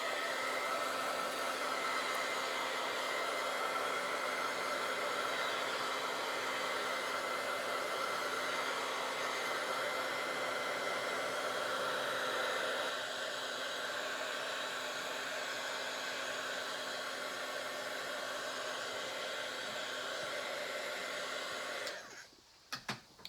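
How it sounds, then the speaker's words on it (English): A hair dryer blowing steadily on white acrylic paint, a constant close whirring drone for over twenty seconds that drops slightly midway, then cuts off with a few clicks at the end. "I'm going to hit this with the dryer"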